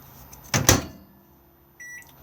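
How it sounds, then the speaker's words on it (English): A microwave oven in an Adria Altea Trent 552 camper van is operated: two sharp clunks of the door or controls, then a short electronic beep a moment later. "Above we have the microwave just here"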